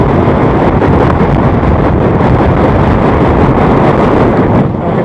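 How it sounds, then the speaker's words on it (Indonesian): Strong wind roars across the microphone at a beach in Lebak, Banten, Indonesia, a loud, constant, buffeting rush that fills the entire stretch with no break, with no talking. "Anginnya keras sekali nih. Kencang sekali."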